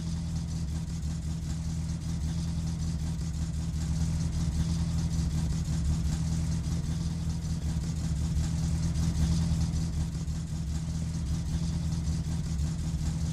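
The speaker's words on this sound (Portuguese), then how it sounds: "colocar o escapamento do carro, que tá mó barulhento" A steady, loud car engine in the game My Summer Car drones throughout with a rough, throaty exhaust rumble, holding a constant idle-like pitch with no talking.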